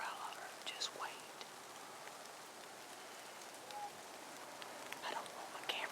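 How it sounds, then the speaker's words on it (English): Light rain falls steadily outdoors during a deer hunt, a soft continuous hiss with scattered faint drops and a few brief bird-like chirps, low and even throughout. "It's just lightly raining."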